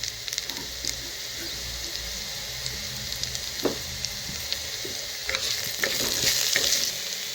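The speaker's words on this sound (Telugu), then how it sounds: "కచ్చా దంచుకున్న ఎల్లుల్లిపాయ వేసుకోవాలి." Crushed raw garlic sizzles in hot oil in a clay pot, a close, steady frying crackle with a few stirring clicks and a brighter burst of sizzle near the end.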